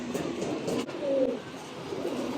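Giribaz pigeons cooing, soft low throaty coos close by over a constant background hum, with no talk.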